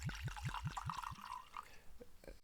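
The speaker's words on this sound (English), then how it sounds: "Pour me a little bit." Basil Hayden 10-year-old whiskey pours into a glass in a short run of close, quick liquid glugs that trail off into a few faint drips, with no talking over it.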